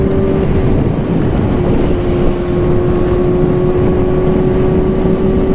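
Steady engine drone from a 16-year-old Yamaha R6 motorcycle running, a loud continuous hum with a constant tonal whine and rough low rumble, unchanging throughout with no talk over it.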